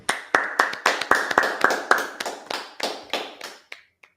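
Congregation at a Sabbath service clapping in a rhythmic, evenly spaced beat, sharp, close hand claps keeping time alongside a faint voice, slowing and thinning out toward the end.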